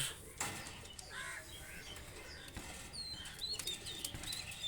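A pair of running pigeons beat their wings in quick, irregular flurries of flapping, with a few faint bird calls and chirps scattered through the steady background.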